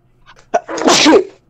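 A single loud, close sneeze from one person on a podcast call, a brief sharp intake followed by a burst of noisy breath lasting under a second, alone with no talk over it.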